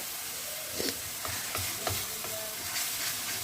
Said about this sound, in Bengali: ওদিকে মশলাটা কষাবো